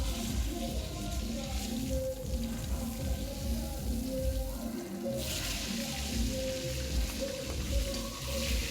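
Pangas fish sizzle in oil, a soft continuous crackling hiss with faint bubbling, fairly quiet and steady, with a brief louder burst of sizzle about halfway through.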